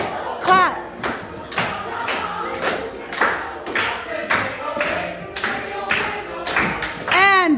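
Dancers in a rehearsal clap their hands in a series of sharp, roughly evenly spaced claps, close and fairly loud, mixed with foot thuds, stray voices and music in the room.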